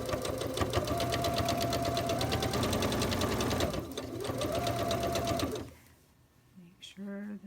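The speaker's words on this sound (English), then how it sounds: "I'm going to just start sewing now with my 1/4 inch foot in this little ditch area." A sewing machine runs steadily, stitching quilt blocks with a 1/4 inch foot in the ditch for quilt-as-you-go sashing, a loud continuous whir that stops near the end, followed by brief quiet handling noise.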